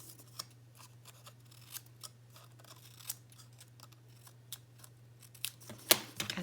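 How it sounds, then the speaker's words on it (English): Scissors snipping small pieces off paper for a grunge-style art folio craft, giving faint, scattered crisp snips over a low steady hum and growing a little louder and busier toward the end. "we'll just snip our little pieces off here."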